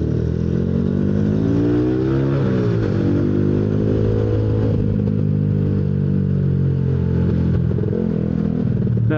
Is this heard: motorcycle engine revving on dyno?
yes